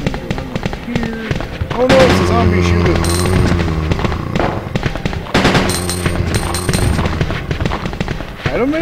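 Rapid gunfire rattles in Resident Evil 2 on PC, repeated loud bursts of shots in clusters with a voice talking over the action.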